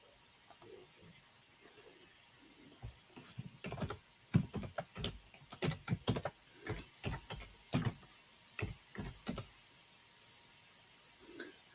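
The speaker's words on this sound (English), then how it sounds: "I'll have to type it." Computer keyboard keys tapped in uneven bursts of clicks, some quick runs and some isolated strokes, close and fairly quiet with no voices.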